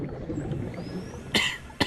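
A person coughs twice, a short sharp burst followed by a second brief cough, close to the microphone over a low background hum.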